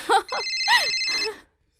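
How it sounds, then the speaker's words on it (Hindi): A telephone rings in a short electronic burst of repeated tones, close and clear, in a domestic scene from a dubbed Hollywood horror film, then cuts to silence. "ओह, प्लम्बर का फोन है।"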